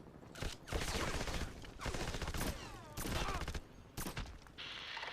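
Rapid bursts of gunfire from a first-person shooter game, loud and dense, with shots clustered in several volleys across the clip and a voice speaking between them.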